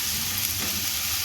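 Tarka masala hisses and sizzles loudly in a pan just after a splash of water goes in. It is a steady, dense spit with no pause, and no voice is heard.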